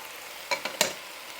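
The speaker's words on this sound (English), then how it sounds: "So next we add our andouille sausage." Andouille sausage for jambalaya dropped into a hot pan, giving a few short sizzling bursts close up, quiet between them, with no talking.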